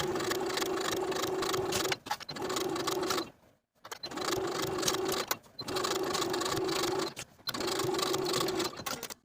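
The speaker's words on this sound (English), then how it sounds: "And then sew both sleeves from underarm to underarm with a 5/8 inch seam allowance." A sewing machine runs in long continuous bursts as jacket sleeves are stitched from underarm to underarm, with a steady whirring drone cut by brief pauses and one near-silent stop between runs.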